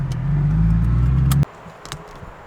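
A Porsche 996 fitted with a Sixty61 muffler bypass rumbles past loudly with a deep, steady exhaust drone that cuts off abruptly, leaving quiet outdoor ambience.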